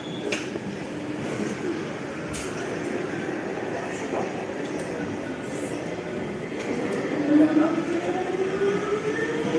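A Lille metro train runs close by, a steady rumble of wheels on track rising toward the end with a climbing whine of motors as it pulls away, with a few short knocks over the top.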